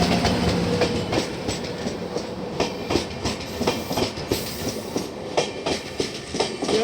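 The Gwalior–SMVT Bengaluru weekly express passes on an adjacent track at a crossing on the outskirts of Nagpur Junction, its wheels clattering in a rhythmic clickety-clack over a steady rail roar.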